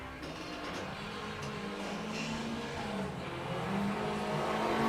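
Rally car on a sprint course's main straight, engine note climbing and growing steadily louder as it accelerates, close and continuous with no talking.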